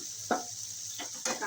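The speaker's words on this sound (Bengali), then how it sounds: "একটু ফ্রাই করে নিচ্ছি" Food frying in a pan gives a faint, steady sizzle, broken by a few quick stirring scrapes, heard close by with no voices.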